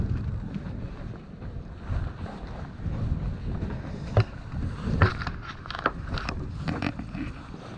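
Wind gusting across a harbour at Kernével, Lorient, while a sailboat readies to leave its berth, a steady broadband roar buffeting the microphone with occasional knocks and clicks from the boat.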